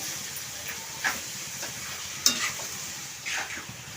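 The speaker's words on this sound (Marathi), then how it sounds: "तर भाजी मी मोठ्या आचेवरती छान अशी परतवून घेते" Young jackfruit vegetable stir-fried in a pan over a high flame: a continuous hissing sizzle with a few scraping stirs and clinks, fairly close, no voices.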